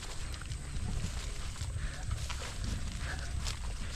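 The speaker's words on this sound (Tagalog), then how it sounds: "Uy, kabayo." A horse is heard outdoors, with faint clip-clop steps and animal movement that sit low in a constant, noisy background.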